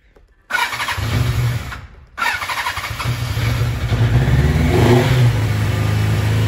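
A Honda CB550 Nighthawk motorcycle, warm with the choke on, cranks and catches twice, then settles into a loud, rough, high idle that swells slightly, heard up close with no talking.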